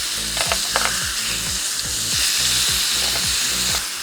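Steak on a Weber grill, a loud steady sizzle and crackle with a faint rhythmic thudding underneath, no voices.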